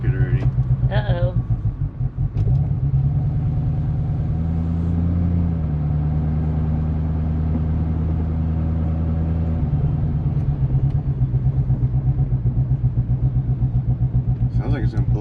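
A Corvette C6 engine runs rough while driving, a loud low droning rumble with uneven pulsing and shifts in pitch, with brief voices at the start and end.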